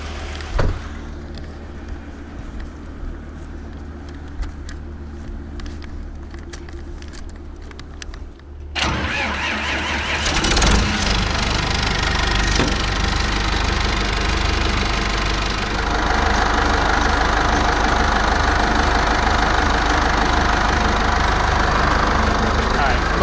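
A wood chipper's engine cranks and catches at a township maintenance site, then runs loud and steady close by after a quieter stretch with vehicle noise.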